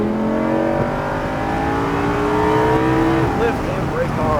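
A Lamborghini Huracán's engine rises in pitch as it accelerates around a racetrack, a steady loud in-car drone with climbing tones, while a driving instructor talks over it.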